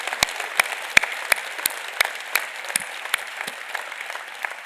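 Church congregation clapping at an Easter Sunday service, a moderate burst of scattered hand claps with some louder individual claps standing out, steady throughout with no voices.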